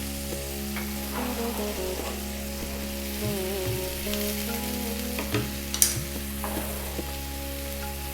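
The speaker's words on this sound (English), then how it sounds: "Now we're going to add our garlic ginger paste." Garlic ginger paste spits and sizzles in a pan over high heat for a lamb bhuna, a continuous close frying hiss with scattered pops and brief clinks of a utensil, beneath a steady low hum.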